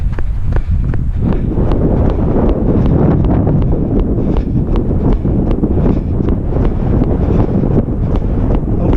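Strong headwind buffets the microphone during the run leg of a triathlon, a loud, continuous rumbling roar with irregular gusty thumps throughout and no talking.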